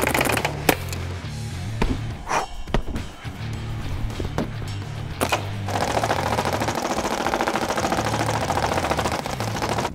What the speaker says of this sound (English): Let's see if those boarded up windows can stand against this paintball gun.